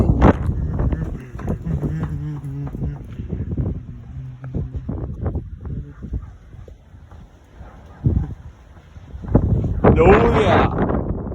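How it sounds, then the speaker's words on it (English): During a high wind storm in Reynoldsburg, Ohio, storm wind gusting toward 40 mph buffets the microphone with a rough, rumbling roar. A person shouts excitedly over it, and the wind swells loudest near the end. "This wind is super awesome."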